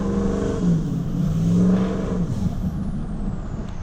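A work truck's 6.0 V8 revs through its exhaust, a deep throaty roar that climbs and falls in pitch over a few seconds before settling back toward idle, close and loud with no talking.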